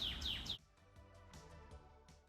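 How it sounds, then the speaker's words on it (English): Bright, high-pitched bird chirps in a quick burst, then scattered fainter tweets over a low background hum. "The birds is chirping."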